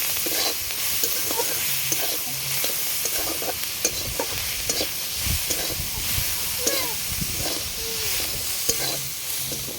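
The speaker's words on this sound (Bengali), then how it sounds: "এবার এটা ভাজা ভাজা করে নেব।" Cauliflower and eggplant with turmeric sizzle steadily in a hot pan, with intermittent scraping and clinking as they are stirred throughout.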